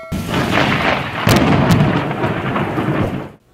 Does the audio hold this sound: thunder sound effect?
yes